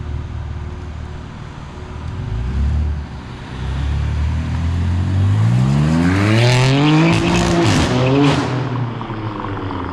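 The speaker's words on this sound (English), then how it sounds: "that is full titanium catback by private label manufacturer, or PLM" A BMW M4 with a full titanium PLM catback exhaust revs hard, the engine note climbing steeply and sweeping upward in pitch, loud and close, with a rough rasp at the top and no talking.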